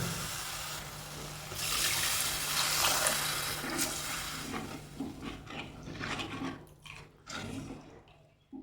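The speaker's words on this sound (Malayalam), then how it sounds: "ഇനി നമുക്ക് ഇതിലേക്ക് ആവശ്യത്തിന് വെള്ളം ഒഴിച്ചു" Water pours steadily into a pan for king fish curry with a hissing splash that gradually softens and turns to uneven trickling and gurgling near the end, nearby with no talking.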